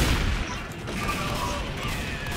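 Rapid gunfire in the zombie shooter Left 4 Dead 2, a dense continuous volley of shots aimed at a corner during a fight against a Tank, loud and close throughout.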